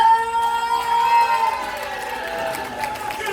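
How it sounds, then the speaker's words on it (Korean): An outdoor festival crowd in Busan cheering and shouting together after a street performance, loud and sustained, with a sung or held tone fading out early as the roar continues. "함성"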